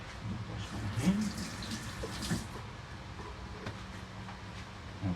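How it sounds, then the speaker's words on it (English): Tap water runs steadily while hands are washed at a kitchen sink during Chicken Wellington prep, a soft, even wash with small splashes and a few brief clatters near the start. "Wash my hands."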